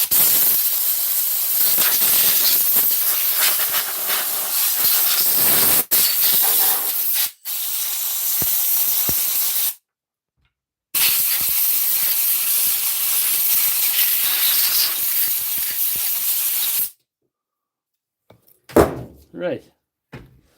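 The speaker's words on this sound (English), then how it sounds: "I'll put the compressor off so it doesn't dim the ears off you." An air compressor line blows compressed air to clear dust out of a saw, a loud steady hiss close by broken by short pauses, with faint talk and a few knocks near the end.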